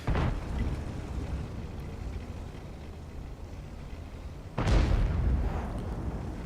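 Artillery shells burst in the tank game World of Tanks: a heavy boom opens the clip and rumbles away, then a second loud blast lands a few seconds later and trails off.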